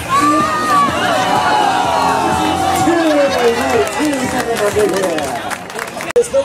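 A crowd cheers and shouts at a county fair pig race, loud, excited voices rising and falling around an announcer who talks over the noise for several seconds.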